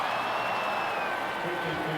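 Faint, steady applause from a football stadium crowd after a missed 52-yard field goal at a Raiders–Broncos game, a distant wash of clapping.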